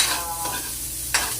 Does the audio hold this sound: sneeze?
no